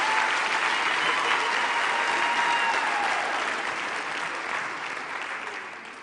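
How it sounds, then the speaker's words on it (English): A large graduation ceremony audience gives a sustained, dense round of clapping that fills the hall, holding steady and then gently tapering toward the end, with no voices over it. "A warm round of applause to everybody"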